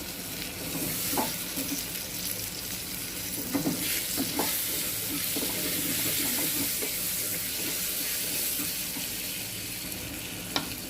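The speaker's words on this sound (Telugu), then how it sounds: "onions, ginger garlic paste fry అయిన తర్వాత కొద్దిగా పసుపు వేసుకుందామండి" Mutton curry base of onions, ginger garlic paste and turmeric frying in a pan, with a steady close sizzle and occasional stirring scrapes and clinks throughout, no talking.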